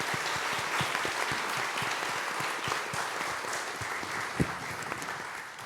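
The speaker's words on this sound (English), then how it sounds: "Can we give a hand to our panel," Steady applause from a conference audience at a business summit honoring a panel, a continuous wash of clapping with a few sharper claps standing out, moderately loud and unbroken.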